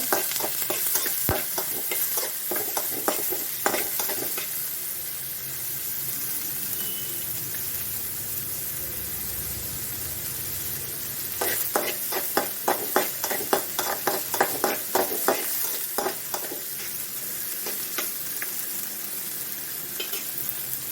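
Onion, ginger and green chili sauté in a pan for wheat upma, a steady close frying sizzle with dense bursts of crackle and spatula scraping that thicken in the second half, no voices.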